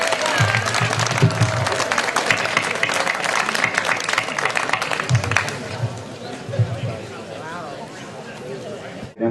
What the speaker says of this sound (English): Let's give everybody a round of applause one more time.